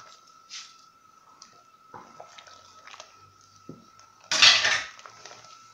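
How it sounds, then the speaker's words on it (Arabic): Thin vermicelli stirred into a pot of Moroccan harira, with scattered clinks of a utensil against the pot, soft drips and a louder scraping, splashing stir near the end. "دابا غادي نضيف الشعريه رقيقه، ودائما مع التحريك باش ما تلصقليش."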